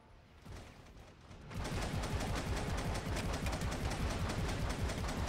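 Full-auto gunfire in the Warhammer 40,000: Eternal Crusade video game. A quieter opening gives way to a loud, continuous rapid-fire stream of shots that runs to the end.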